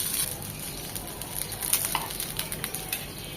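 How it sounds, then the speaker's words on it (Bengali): Chicken keema seekh kebabs fry in a pan over medium-low heat, giving a steady soft sizzle with light crackles and a few sharper pops, close and fairly quiet with no speech. "ওই পাশটা এরকম 4 থেকে 5 মিনিট মিডিয়াম টু লো হিটে ভেজে নেব।"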